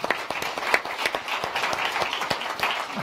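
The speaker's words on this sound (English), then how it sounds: "another big round of applause for Nicole and Jackie" Audience at a business forum applauding, a steady run of overlapping claps with sharper individual hand strikes standing out, moderately near and continuing throughout.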